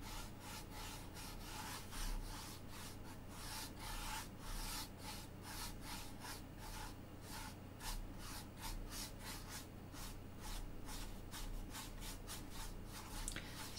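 Soft pastel is worked onto paper with a continuous, quiet scratchy rubbing, a faint dry friction sound that keeps going at a steady, even texture with no speech.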